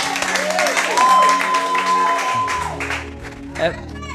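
A church congregation applauds and cheers for Jesus, a broad wash of crowd clapping and voices behind sustained music, loud and continuous before easing toward the end.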